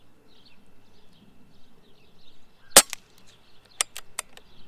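A Benjamin Marauder Field & Target air rifle fires outdoors with a sharp, dry crack, followed by several fainter clicks and snaps over quiet ambient background.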